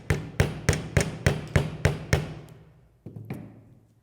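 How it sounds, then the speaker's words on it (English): The end of a jewellery wire is flattened with a hammer in eight sharp, evenly spaced strikes, then two more after a brief pause. Each blow rings out close and clear. "So I'm just going to stroke hammer the end here."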